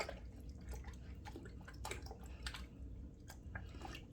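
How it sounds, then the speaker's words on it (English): A washcloth being rinsed of soap in a bathroom sink, steady running and splashing water with drips and squishes, close and continuous with no voices. "rinse out this washcloth now so it's not all full of soap. I'm doing that in my sink right here."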